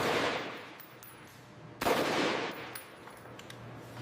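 Beretta 92FS pistol fired repeatedly in live-fire testing, loud sharp reports ringing out with reverberant decay, a second strong blast midway and fainter shots after it.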